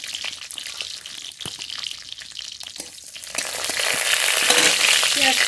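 Cumin seeds, dried red chillies and whole garlic cloves sizzle and crackle in hot oil in a wok, with scattered pops and a steady frying hiss that swells louder toward the end.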